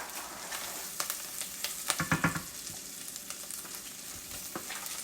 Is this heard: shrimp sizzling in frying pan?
yes